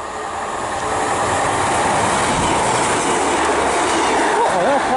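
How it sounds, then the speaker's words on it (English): A Great Western Railway class 153 diesel unit runs through a small station, loud and close, with rumbling wheels, rail clatter and rising squeals toward the end, with no talking. "passing through now is a service from Great Western Railway service from Exeter St David's to Penzance"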